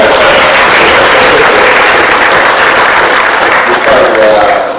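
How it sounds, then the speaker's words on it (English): An audience at a 2013 company business round-up event gives delivery staff a loud, dense round of applause that carries evenly and close throughout. "we need to give the same round of applause for our delivery people"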